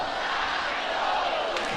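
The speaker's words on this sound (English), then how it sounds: "Crowd on its feet here at the Rhodes House" Softball crowd at the Rhodes House in Alabama, on its feet with the bases loaded during an Oklahoma vs Alabama college game, giving a steady, dense roar of cheering and yelling that holds loud and unbroken throughout.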